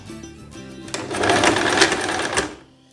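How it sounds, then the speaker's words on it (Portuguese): A sewing machine runs a zigzag stitch on a dress at close range, a steady mechanical whir with a fast regular pulse that swells in the middle and then winds down. "Tô costurando no ponto de zigue-zague"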